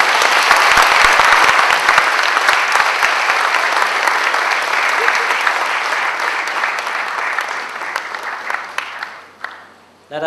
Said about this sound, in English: Last but not least, a big round of applause for Mr. Sami Loh.